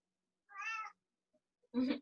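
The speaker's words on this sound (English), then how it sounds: "My cat." A house cat meows twice indoors, one drawn-out mew followed after a short pause by a louder, rougher second call, both close and clear with quiet in between.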